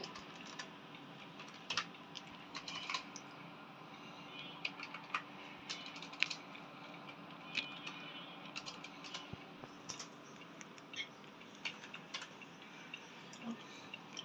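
Bengali being typed on a computer keyboard using Avro: steady, quick clicking keystrokes in uneven bursts, close and fairly quiet, with no talking.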